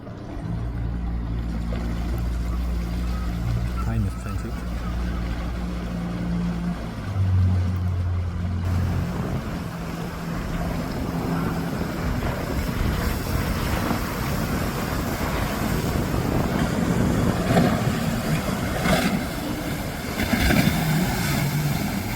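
A boat's Mercury outboard motor starts and pulls away on the water, a steady loud engine drone with shifting pitch, running alone without speech for the whole stretch.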